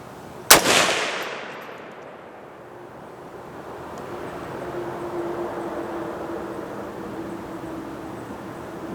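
A single sharp, loud report from a PSA PA-10 .308 Winchester rifle cracks out near the start, followed by a long decaying echo and then low outdoor ambience.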